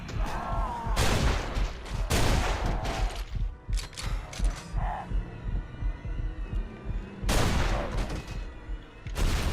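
Gunfire in the video game Afterfall Insanity, heard as loud bursts of shots in clustered volleys separated by brief lulls, with a low rumbling game soundtrack underneath.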